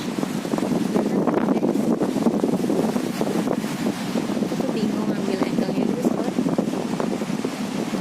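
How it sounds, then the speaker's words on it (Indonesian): Strong, steady wind buffets the microphone outdoors, a continuous broadband roar with gusting swells that never lets up; a voice speaks faintly underneath. "anginnya kenceng banget, bener-bener kenceng banget"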